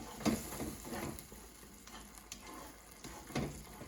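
Orange chicken sizzles quietly in a pan as a teaspoon of hot sesame oil is stirred in, with a soft frying hiss and several spaced, clinking stirring strokes, close and fairly faint.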